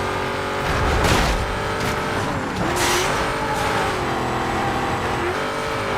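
A racing engine roars in Need for Speed Most Wanted, with a muscle car accelerating hard through gear changes, whooshes of cars passing and brief tire noise, loud and continuous over six seconds.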